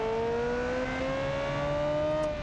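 Race car engine in BeamNG.drive on the Monaco Grand Prix circuit, revving toward nearly 11,000 RPM with a loud, steady whine that climbs gradually in pitch.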